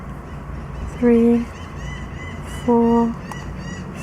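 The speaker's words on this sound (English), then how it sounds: "Do you hear the seagulls in the background?" Seagulls at Galveston give two loud, drawn-out honking calls about a second and a half apart, heard over a soft-spoken voice counting quietly.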